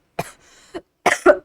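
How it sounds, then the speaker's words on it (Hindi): A few sharp coughs in quick succession, close and fairly loud, with a short pause between bursts. "थोड़ा सा मुझे खांसी है, इसकी वजह से बीच बीच में थोड़ा सा प्रॉब्लम हो रहा है"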